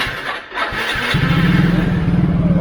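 A motorcycle engine fitted with a Takayama cast-iron cylinder block cranks briefly, then fires and settles into a loud, steady, throbbing idle close to the microphone, with no voices over it.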